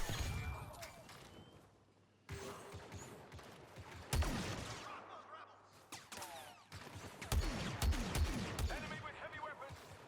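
Rapid blaster and gunfire bursts from a Star Wars Battlefront II battle, dense and continuous with sharp impacts and explosions, mixed with voice chatter over the combat.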